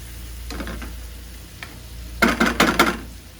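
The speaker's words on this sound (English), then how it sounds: "So we're just warming them. And flavoring them up in this butter sauce." Already-cooked shrimp warm in butter sauce in a pan, giving a soft sizzle with a few light stirring scrapes, then a brief louder cluster of clattering stirs near the end; no one speaks.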